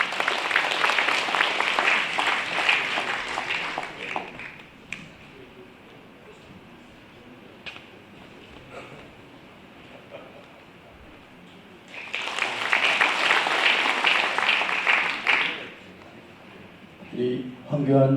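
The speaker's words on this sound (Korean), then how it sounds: "박수로 맞아주시길 바랍니다." An indoor audience at a lecture event in Korea welcoming a former prime minister claps in two dense bursts of applause, each lasting a few seconds, with a quieter stretch of talking between them.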